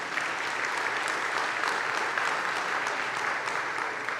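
A conference keynote audience claps steadily for about four seconds, a dense even wash of applause with no voices over it.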